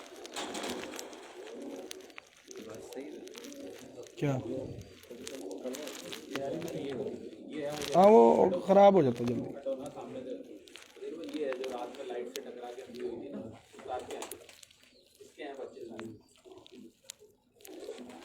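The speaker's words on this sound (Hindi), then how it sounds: "बहुत अच्छा कबूतर है।" Prized pigeons in a fancier's loft coo softly in low, rolling bursts beneath near-continuous conversation between two men, the cooing swelling clearest for a moment midway.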